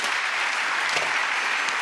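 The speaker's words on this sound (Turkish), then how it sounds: "Sahnedeki herkesi alkışlarla gönder" A television talk show studio audience applauds steadily to send the people on stage off, a thick, even wash of clapping heard alone at moderate volume for the whole stretch.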